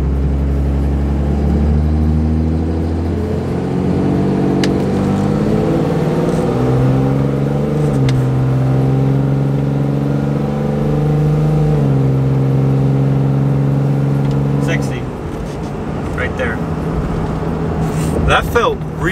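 A 5.9 Cummins truck with a rebuilt transmission accelerates hard from 0 to 60 on an open road, its loud diesel drone climbing through steady upshifts, heard from inside the cab, before easing off near the end.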